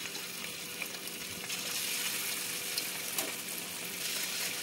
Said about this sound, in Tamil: ஆயிலை வந்து சட்டியில் ஊற்றிட்டு அதை பொறிச்சு எடுக்கிறது எப்படி அப்படிங்கிறத பார்ப்போம்